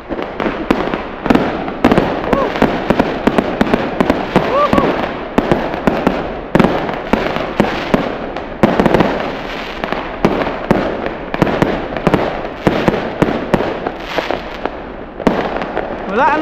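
Chinese New Year fireworks and firecrackers bang in dense, rapid bursts, near and far, crackling almost nonstop with louder individual pops, while people talk now and then beneath the noise.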